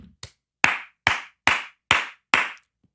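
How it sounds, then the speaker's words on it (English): Slow clap by a single person: five or six loud, separate hand claps spaced evenly about half a second apart, near and dry with no other sound. "like slow clap for Chris Cuomo"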